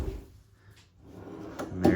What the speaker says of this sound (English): You've got big row of drawers here.